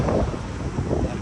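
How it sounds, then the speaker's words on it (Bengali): Strong gusting wind at Marina, Singapore, roars steadily across the microphone as a loud, broad rush with no pauses and no voices. "প্রচুর বাতাস। বাতাসে মনে হচ্ছে যে উড়িয়ে নিয়ে যাবে।"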